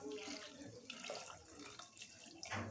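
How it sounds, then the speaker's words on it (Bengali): Water is poured into a pressure cooker holding salted arhar dal, a soft, uneven splashing trickle that comes and goes, quiet and close with no talk. "এখন এতে আমি হালকা পরিমাণে জল দিয়ে দেব"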